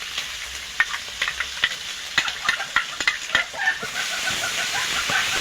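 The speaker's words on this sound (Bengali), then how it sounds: "মশলাটা ভালো করে কষিয়ে নিয়েছি" A spice paste of onion, garlic, dried chili, ginger, coriander and cumin fries in a pan for an egg curry, with a steady sizzle punctuated by repeated scraping stirs of a spoon, close and fairly loud, no voices.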